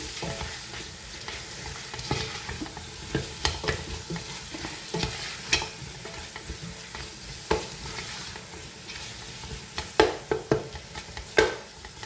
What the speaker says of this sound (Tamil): வந்து நல்லா வதங்கணும் தக்காளி பழம்.